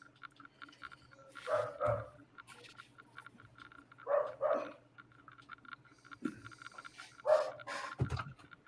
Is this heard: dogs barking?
yes